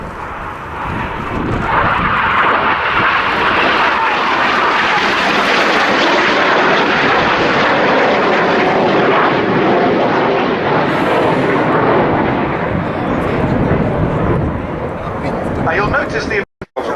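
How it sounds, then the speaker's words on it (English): Red Arrows RAF jets fly double rolls at the RIAT airshow, a loud sustained roar that swells and holds for most of the stretch and then fades, with a commentator's voice over the PA beneath it. "Right now he's leading he's leading Synchro as they fly double rolls."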